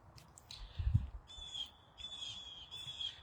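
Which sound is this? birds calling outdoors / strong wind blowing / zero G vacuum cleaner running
birds calling outdoors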